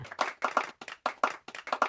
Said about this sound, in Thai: กลับมีเสียงปรบมือ ฝ่าวงล้อม